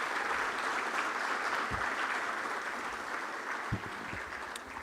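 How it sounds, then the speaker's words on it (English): An audience at the Future of Energy Conference 2025 claps for the minister, a loud, sustained crowd applause with a few sharper knocks mixed in, fading slightly toward the end. "let's clap again for the minister."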